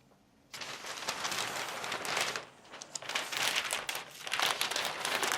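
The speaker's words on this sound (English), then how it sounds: "So now we're gonna cut the pattern." Craft scissors cutting through a paper hoodie sewing pattern, giving a continuous close crinkling and rustling of paper with brief pauses, loud and alone without talk.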